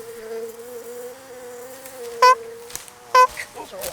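A swarm of wasps drones in a steady buzz at a campsite on an island, with two sharper, louder passes as insects fly close by.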